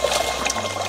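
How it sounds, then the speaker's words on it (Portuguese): Water rushing along a rural irrigation channel on a countryside farm, a close, loud, steady splashing and pouring flow with no talking. "a correnteza da água."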